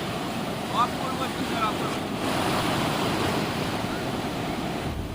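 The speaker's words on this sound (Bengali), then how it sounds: "আমি এখন রয়েছি বকখালি সমুদ্র সৈকতে।" Sea waves wash steadily onto Bakkhali beach, a continuous breaking surf mixed with wind noise, moderately loud and unbroken.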